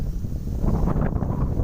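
Strong wind gusting across a microphone outdoors on a farm among eucalyptus trees, a loud low buffeting rumble that fills the short clip continuously.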